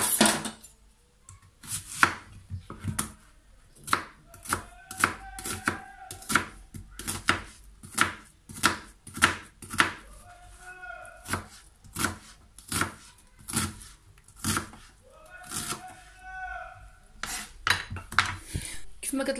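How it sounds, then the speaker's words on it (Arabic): Onion being chopped with a knife on a board for a kefta tajine, heard as repeated sharp, close knocks in irregular bursts with quiet gaps between them and no talking. "المهم غنبداو ونقطعوا البصله."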